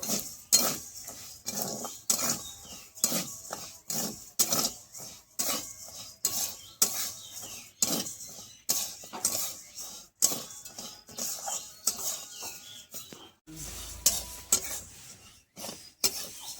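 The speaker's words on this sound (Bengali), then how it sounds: "এবার আমি ভেজে নেব" Sago pearls frying in a pan are stirred with a metal utensil, giving regular scraping clinks and rattles in a steady rhythm, close and fairly quiet, with a brief pause near the end.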